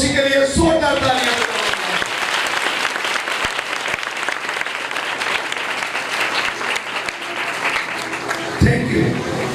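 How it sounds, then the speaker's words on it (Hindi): A church congregation at a Hindi-language worship service bursts into vigorous applause for Jesus Christ, loud continuous clapping from many hands following a brief spoken exclamation, with a voice returning at the close. "यीशु मसीह के लिए जोरदार तालियां।"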